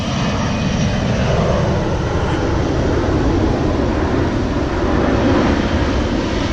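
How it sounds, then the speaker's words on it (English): A low-flying airplane on the flight path near Sydney Airport roars overhead in a loud, continuous engine rumble with a slowly shifting pitch, filling the whole stretch without talk. "let's wait for this plane to go over"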